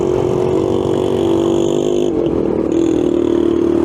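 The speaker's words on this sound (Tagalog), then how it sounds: "Talagpasan ko lang yung tricycle tapos magsasalita na ako" A motorized tricycle in the Philippines passes close by, its loud engine droning steadily with a rattling, clattery edge, holding near before easing off slightly, with no talk.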